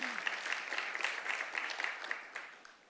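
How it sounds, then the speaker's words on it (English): Congregation applauding during a church sermon, a steady wash of many hands clapping at moderate distance, fading slightly toward the end, with no talk over it. "we could clap for that"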